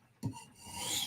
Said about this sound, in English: when you run the knife over it, you'll hit that burr and you'll feel it and hear it